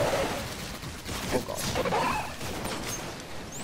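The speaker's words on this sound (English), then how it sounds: "Being shot from the back, but I don't know where." Gunfire crackles in the Destiny video game, bursts of shots under a player's alarmed voice.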